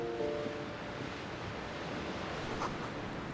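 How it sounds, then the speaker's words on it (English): Waves crash in darkness in Disco Elysium, a steady wash of surf and wind noise running the full length at moderate level, with a faint tonal hum early on. "Waves crashing in the darkness."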